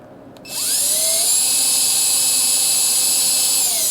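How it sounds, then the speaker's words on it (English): A small electric drill spins up and whines steadily at high pitch while boring into the door of a 1978 Trans Am, close and loud. "I'm going to drill right in the center"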